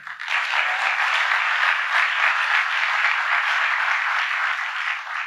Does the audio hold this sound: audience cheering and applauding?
yes